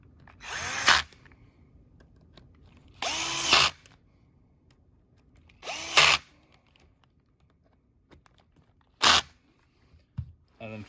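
A power drill driving screws into a wooden brace in short whirring bursts, four clear runs spaced a few seconds apart and a final brief burst, with quiet handling noises between them.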